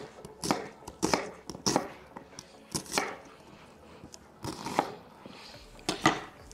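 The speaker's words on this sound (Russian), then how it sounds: "Давайте сначала нарежем лучок" A knife chops an onion into half-rings sharply on a cutting board in an uneven rhythm of crisp, close taps.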